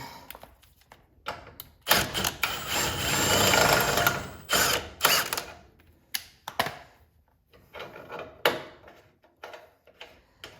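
A power tool unscrews a double-threaded bolt from a Toyota's Total Chaos rear suspension, running in several short, loud whirring bursts with brief pauses and clicks between them.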